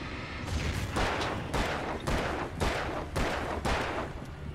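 Pistol gunshots in the video game Alan Wake crack out in a rapid series of about eight loud, evenly spaced shots, each ringing briefly before the next.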